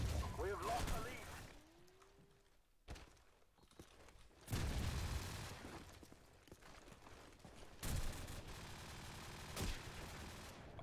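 Assault rifle gunfire in a Call of Duty 4 multiplayer match, bursts of automatic shots and sharp bangs arriving in separate loud clusters between quieter stretches, with brief game chatter between them.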